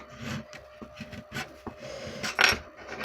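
Paper edges of shabby chic junk journal ephemera being ground down with a rasping tool, heard as short, close scraping strokes in an uneven rhythm, with a louder, harsher rub near the end.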